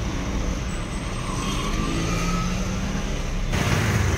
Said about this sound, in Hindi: और दिमापुर टाउन का ट्रैफिक